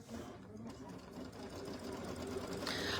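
An embroidery machine stitches a design, its steady rapid mechanical whir running unbroken and moderately loud, with a brighter rattle joining near the end.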